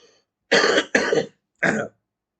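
Three harsh coughs close by, two in quick succession and one after a short pause.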